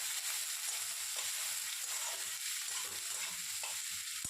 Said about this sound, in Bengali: এবার খুন্তি দিয়ে একটু ভালো করে নাড়াচাড়া করে কষিয়ে নেব।